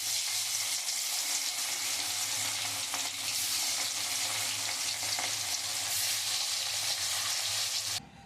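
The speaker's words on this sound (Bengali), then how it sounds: "কড়াতে তেল দিয়ে দিয়েছি, সর্ষের তেল। এবার ভেজে নেব।" Rohu fish fries in hot mustard oil in a kadai, a loud continuous sizzle and crackle with occasional stirring scrapes, steady throughout until it drops away abruptly near the end.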